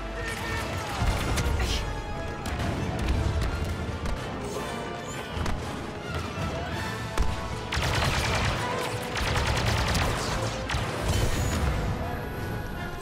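Rapid blaster fire in Star Wars Battlefront 2 aboard the Dauntless, a loud, continuous barrage of zaps and impacts with sharp peaks and a few brief lulls.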